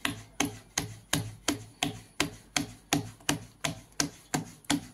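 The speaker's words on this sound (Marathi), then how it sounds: "आता ह्याच्यावर असं थापून घ्यायचं छान, सगळी सारखी थापून घ्यायची।" Jowar flour bhakri dough patted by hand on a floured surface, a steady run of about fourteen soft, even slaps spaced roughly a third of a second apart, close and clear with no talking.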